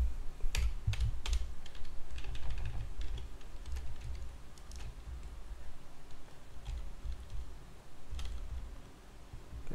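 Steady clicking of a computer keyboard during a coding lesson, continuous rapid keystrokes over a low background hum, close and moderately loud with no talk.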